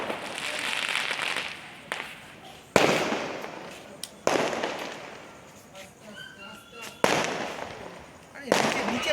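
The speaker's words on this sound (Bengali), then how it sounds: "বাজিটা ফাটছে দেখ" Festival fireworks burst in sharp, loud cracks at intervals of a few seconds, each followed by a fizzing, crackling tail, with voices talking in the background.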